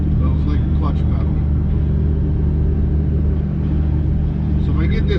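A combine harvester engine rumbles steadily up close during a wheat harvest, its low drone holding near constant with a slight rise as the throttle is nudged, heard alone.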